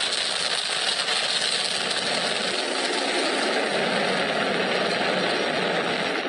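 A SpaceX Falcon 9 rocket roars about twenty seconds into a crewed Dragon launch, a dense, steady broadband rumble heard from a distance and sustained without a break.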